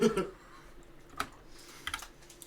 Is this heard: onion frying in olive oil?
no